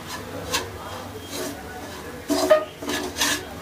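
Sprouted ragi roasting in ghee is stirred in a pan for a millet sweet, with soft scraping strokes and a few sharper rubs of the utensil against the pan, close and unhurried.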